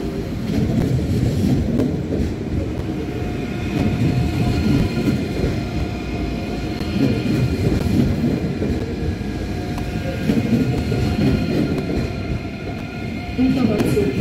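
Trains at Stuttgart Hauptbahnhof rumble with a steady, loud wheel clatter through the whole stretch, rolling on continuously with the busy ambience of a large main station.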